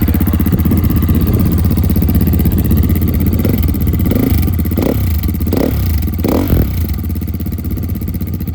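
A KTM supermoto motorcycle engine, from a 450 EXC-F and 390 SMC R pairing, runs loudly and close throughout, a steady rough idle with several short throttle blips near the end.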